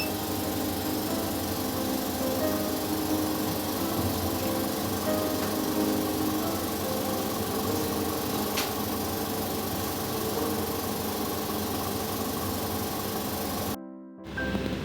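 A spin coater spins a PDMS sample at 500 rpm, giving a steady, continuous motor hum and whir at even loudness throughout, cutting off abruptly at the very end.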